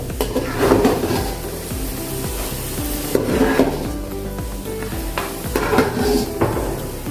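Peanuts frying in hot oil for a thin-poha chivda snack, a steady crackling sizzle with rhythmic scraping and stirring in the pan, close and continuous with no talking.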